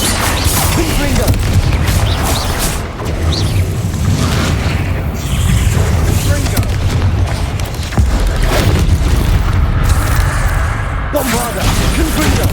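Blasting spells erupt repeatedly during a Hogwarts Legacy fight, a loud unbroken wall of booms, bursts and crashes with voices shouting over it.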